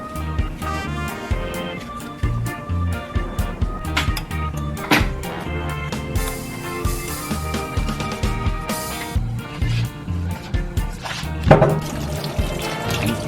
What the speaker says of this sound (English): So I get my pumpkin cut up, and now I'm washing it.